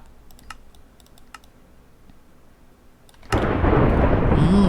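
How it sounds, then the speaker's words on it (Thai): In the video game Minecraft, soft computer keyboard clicks tap sparsely, then a sudden loud thunder strike bursts in and rolls on as a heavy, sustained rumble. "เสียงฟ้าผ่าน่ากลัวจริงเลย"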